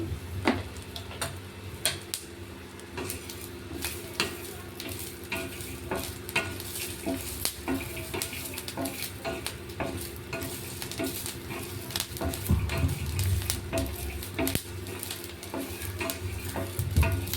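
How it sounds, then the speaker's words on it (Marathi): Steady dry sizzling in a hot pan with frequent scraping and clicking as coriander seeds and garlic are dry-roasted and stirred, continuous and close. "अशाच पद्धतीने लसूण आणि धने भाजायचे।"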